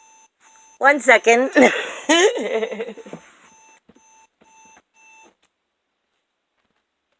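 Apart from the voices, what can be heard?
alarm going off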